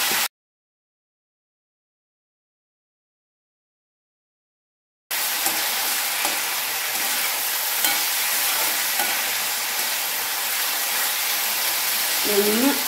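Potato and green chili bhujiya sizzles and is stirred in a pan, a bright hiss starting after a short silence and continuing steadily, with a few scraping stirs near the end.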